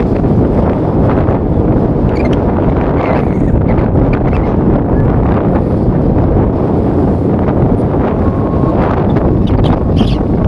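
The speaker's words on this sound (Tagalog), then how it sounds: "Sobrang hangin." Loud, steady wind buffets the microphone on a hilltop at Tinawagan Hills for the whole stretch, a constant rough roar with no break and no voices.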